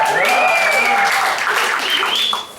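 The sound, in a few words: audience applause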